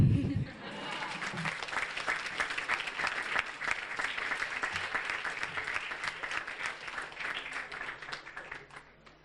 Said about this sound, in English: I'm sure you could do better than that with the applause